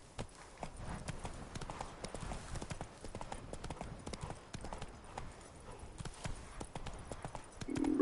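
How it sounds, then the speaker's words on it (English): Roach the horse trots into town in Witcher 3: Blood and Wine, a steady clip-clop of hooves on hard ground repeating throughout, with faint game ambience underneath. "Ride my horse into town."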